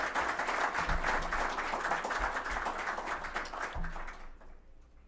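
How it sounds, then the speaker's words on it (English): Awards ceremony audience applauding, a dense wash of many hands clapping, steady and fairly loud before fading out toward the end. "the community itself deserves a round of applause"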